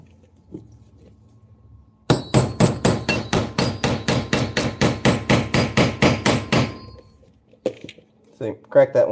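Rivets are hammered into the webbing of a WWII M1 helmet with a rapid run of about twenty sharp, evenly spaced metallic strikes, close and loud. A few scattered taps and clinks follow, and there is no talk.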